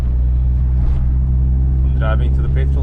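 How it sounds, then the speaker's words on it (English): A VW MK2 Golf drives along with a steady low engine drone and road rumble heard from inside the cabin, holding an even loudness with a few faint knocks. "Driving to the petrol station"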